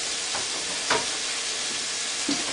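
Gumbo ingredients saute in a pot with a soft, steady hiss of frying and a couple of brief stirring scrapes, fairly quiet and close, with no talking.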